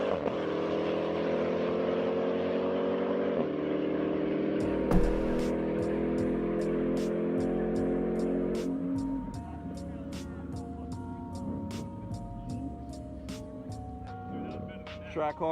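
A Jeep Grand Cherokee Trackhawk and a Mopar car street race, with engines droning and revving loudly through sustained acceleration, then easing off as faint clicks and distant traffic take over.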